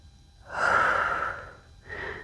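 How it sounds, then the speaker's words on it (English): Slow, controlled breathing during a full-body yoga mobility exercise: a long, airy exhale swells and fades over about a second, followed by a shorter, softer breath, close up and alone without talk. "Oh, and we're breathing."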